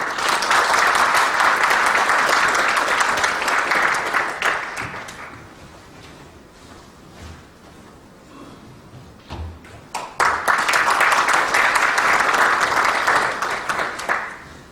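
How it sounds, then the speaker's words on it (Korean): A defense safety symposium audience claps loudly and steadily for about five seconds, falls quiet through a low murmur, then breaks into a second full round of applause. "큰 박수로 맞이해 주시기 바랍니다"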